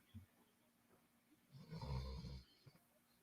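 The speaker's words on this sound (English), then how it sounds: "he's fully snoring on stream" A single loud, rough snore swells up and fades over about a second, against a quiet background with faint noise.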